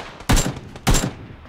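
Two loud gunshots roughly half a second apart in the PUBG battle royale game, each a sharp broadband crack with a short decaying tail, standing alone with no talk.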